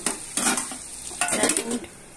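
Ginger frying and being stirred in a pan at home for lunch, with close sizzling and repeated scraping stir strokes in bursts.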